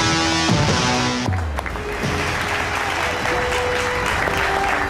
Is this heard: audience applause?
yes